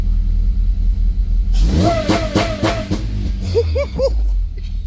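A 2006 Civic Si K20 engine with a Mercracing TVS-1900 supercharger and new intake revs hard in a few quick, loud bursts, then drops back to a deep, rumbling idle with a couple of smaller blips.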